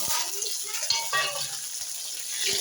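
Chopped tomato goes into a pan of browned onion and sizzles with a close, steady frying hiss, broken by a few sharp clicks and taps of stirring.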